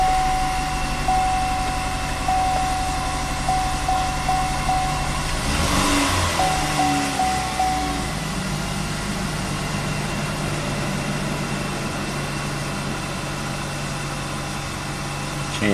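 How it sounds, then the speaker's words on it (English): A 2014 Cadillac CTS, a crashed car under repair, idles steadily with a low even engine hum, with a brief rise around the start and faint electronic beeps over the rumble, close and continuous throughout. "Start it up."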